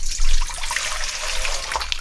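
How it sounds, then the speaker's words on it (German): Cold water poured into a bowl while making Neapolitan pizza dough with sesame, a short, close splashing stream that fills the bowl, with no talk. "Also Wasser in die Schüssel."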